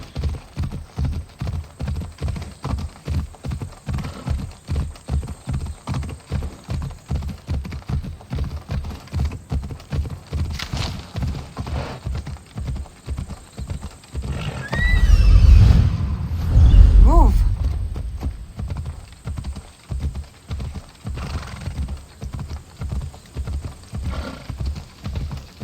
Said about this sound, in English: the horse that I'm riding at the moment is a random horse which I commandeered for the purpose